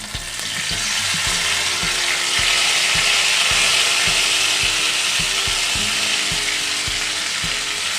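Palak paste frying in a spice tempering for green roti, a loud steady sizzle with regular scraping stir strokes ticking through it, no voices.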